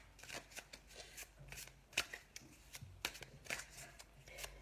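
Tarot or oracle cards are shuffled and drawn close to the microphone in a quiet room, giving a soft, irregular run of papery riffles, flicks and slaps.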